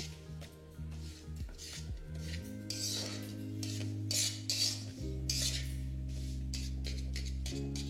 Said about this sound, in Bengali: ফ্লেমটা লো রেখে এটাকে ভালো করে মেশাতে থাকুন